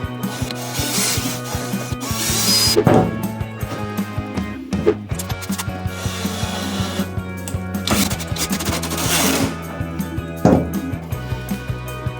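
Screws are driven into a wooden sim racing cockpit, giving close, continuous grinding and ratcheting with squeaky wood rubbing and uneven bursts of effort.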